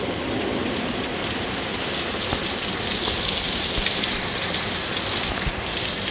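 Steady heavy rain during a storm, a dense continuous hiss of drops striking surfaces close by, with no talking.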